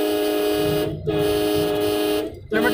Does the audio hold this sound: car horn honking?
yes